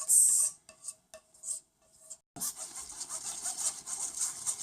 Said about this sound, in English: Now it's time to strain it.